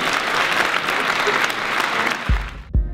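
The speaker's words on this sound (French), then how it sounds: "donc on peut les applaudir." Audience applause fills a show hall at a live comedy performance, steady and dense throughout before two deep thumps near the end.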